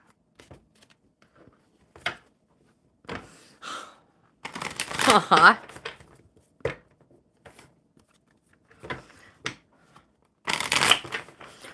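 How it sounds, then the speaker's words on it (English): A deck of playing cards shuffled at a table during a live coffee-and-cards stream, several sharp riffling bursts with pauses between, the longest near the middle, with a brief laugh and light handling sounds. "One more good shuffle for Kurtesh."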